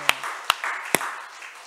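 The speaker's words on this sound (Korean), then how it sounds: "우리 하나님께 영광의 박수 드리겠습니다" Three sharp, separate hand claps ring out at an even pace in a church service, close and distinct against a quiet, reverberant room.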